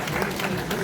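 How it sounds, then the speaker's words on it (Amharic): A brief burst of audience applause at a film launch ceremony, dense and even clapping over under a second with crowd murmur beneath. "ጭብጨባ ያስፈልጋል።"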